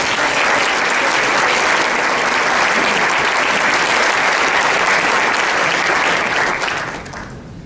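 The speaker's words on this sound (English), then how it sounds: "Can I please have a round of applause for all of our coaches?" Audience applause for a group of coaches at a sports awards event, a sustained, dense roar of clapping from a large crowd that holds steady and then thins out near the end.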